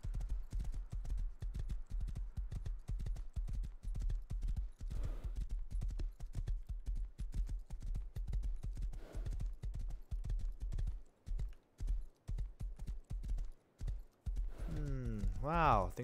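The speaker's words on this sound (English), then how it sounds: "This horse looks pretty abandoned and hungry." Horse hooves clip-clopping in the Rust video game, a steady close rhythmic trot of hollow knocks running throughout, with a whinny near the end and a voice talking over parts of it.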